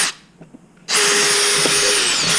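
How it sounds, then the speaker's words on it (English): Power drill boring 1/8-inch pilot holes into a piece of wood clamped in a vise, starting abruptly after a quiet moment and running as a loud, steady high-pitched whine with slight pitch shifts. "I drill some pilot holes here"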